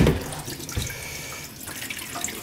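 Tap water runs steadily while a barn summer apartment is drained for winter, a close, even hiss and splash that continues without a break and without voices.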